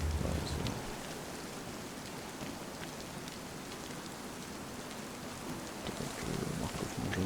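Steady rain falls across a DayZ landscape, a dense, even wash of patter with scattered drops tapping nearby, continuous and moderately loud throughout.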